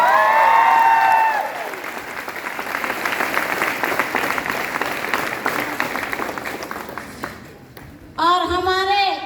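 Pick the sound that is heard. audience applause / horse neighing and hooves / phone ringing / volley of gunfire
audience applause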